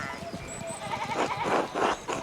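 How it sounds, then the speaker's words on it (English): Sheep bleating in the video game Pentiment, several wavering bleats close by in quick succession, the later calls louder and rising over a light background. "we need to get these sheep under control"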